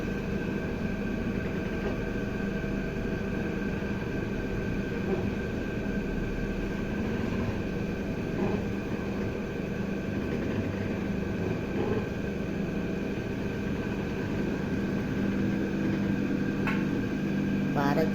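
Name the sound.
oil mill grinding coconut into oil cake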